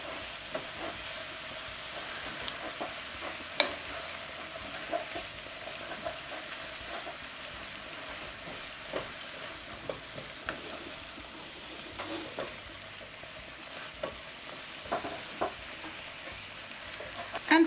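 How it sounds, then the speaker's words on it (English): Zucchini with tomatoes and oregano stirred in a pan, giving a quiet steady sizzle broken by scattered light scrapes and taps of the spoon over a long stretch. "Give it another stir."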